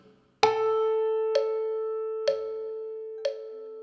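A single sustained tone held as a whole note over four beats, with a soft click marking each beat while the pitch rings on steadily and fades slowly, for a children's music rhythm lesson.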